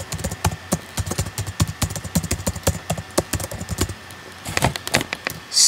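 Someone types code on a computer keyboard in quick, uneven bursts of close, crisp key clicks, with a short pause before a final flurry of keystrokes.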